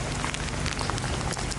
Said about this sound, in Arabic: أمطار غزيرة ما شاء الله تبارك الله.